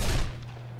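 A single loud revolver gunshot in the shooter game Black Mesa, a heavy close blast at the start that decays quickly, followed by a faint metallic click.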